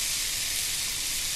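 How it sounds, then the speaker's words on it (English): Onion mixture with spices sizzling steadily in a hot pan, a loud continuous frying hiss with no talking. "I like that sizzle"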